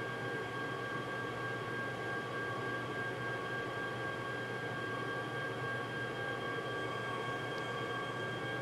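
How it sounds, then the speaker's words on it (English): Servers running in a data center, a steady, faint broadband whir of cooling fans with several constant tonal hums, unbroken throughout with no voices. "But I mean, a data center tends to get a little bit on the noisy side."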